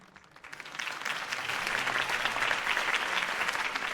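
Crowd applause after a campaign speech in a Batman video game, rising from quiet into a thick, sustained roar of many clapping hands that stays loud and even to the end.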